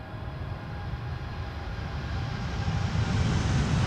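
Boeing 777-200 departing Amsterdam Schiphol: a steady broadband jet roar that slowly swells in loudness, with a low rumble and faint tonal whine, heard from a distance with no talk.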